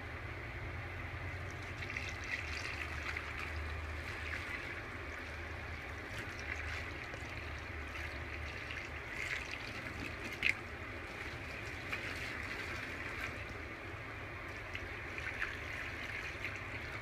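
Water poured by hand from a gallon jug into a bucket holding towels for handwashing, a steady low trickle and splash running throughout with a faint click partway through.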